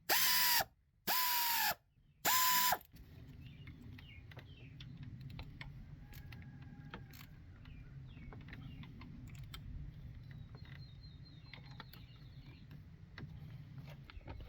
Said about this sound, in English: 10mm deep well socket on the air ratchet. And I'm just going to run these up and then I'll torque them down.